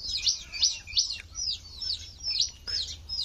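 Bird calls on a farm where pigeons are kept, a run of repeated short chirping notes close by, steady and fairly loud with no talking.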